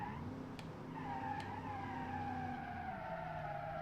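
A V8 car engine in the BeamNG driving game, a steady sustained drone with a rising and gliding pitch as it accelerates, loud and continuous with a couple of faint clicks early on, no talking.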